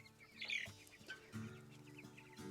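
Cornish cross meat chickens, a hybrid broiler breed raised on pasture, cluck softly close by in a couple of short bursts, with a faint background of other birds.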